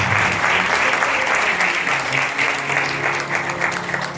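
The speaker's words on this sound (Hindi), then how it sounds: "जोरदार तालियों में व्यासपीठ से उनका स्वागत करता हूँ" Dense, steady applause from a large crowd fills the whole stretch, loud and continuous without pauses.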